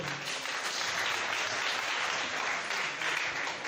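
Members at a sports club general assembly applaud to adopt the agenda by acclamation, a continuous, even roar of clapping from a sizable crowd.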